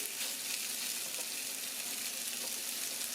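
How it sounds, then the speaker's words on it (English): Meat sizzles loudly and continuously on a hot George Foreman electric contact grill, a dense crackling hiss with no talking. "lay these over here, sear the sizzle"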